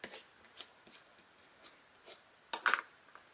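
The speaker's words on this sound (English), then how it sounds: "use your bone folder, give it a good crease" Bone folder pressing a crease into folded paper for a diamond fold album, a series of soft short rubbing strokes close by, ending in a sharper scraping burst.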